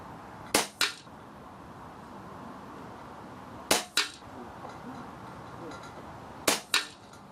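An ATA Arms Airborne .22 air rifle fires pellets at a target 30 yards away: three sharp cracks spaced a few seconds apart, each followed closely by a fainter impact, in a quiet setting.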